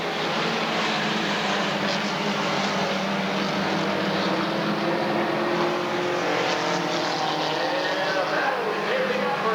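Race cars at Redwood Acres Raceway roar in a steady, loud, continuous engine drone as the field circles the track, with no breaks in the noise.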